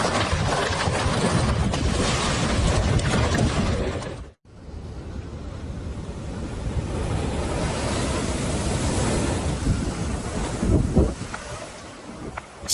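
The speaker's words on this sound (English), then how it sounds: "This terrifying nighttime flood happened in Scotland." Loud sea waves and wind roar through a nighttime flood in Scotland, with heavy, continuous rushing noise and buffeting on the microphone, a brief dropout, then surging water and splashes resuming.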